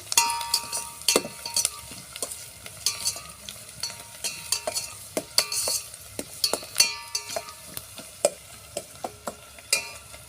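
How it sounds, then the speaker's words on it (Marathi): Peanuts, onion and chili frying in oil for a mixed dal and vegetable curry cooked on a wood-fired stove, a soft sizzle under frequent sharp clinks and scrapes of a stirring spoon against the pan, close up with no talking. "आता शेंगदाणे पण तेलामध्ये आपण भाजून घेतले"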